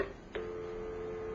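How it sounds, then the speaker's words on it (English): A faint, steady telephone dial tone hums continuously from a cordless phone. A brief click sounds near the start and the tone carries on alone. "How come the dial tone is coming out of there?"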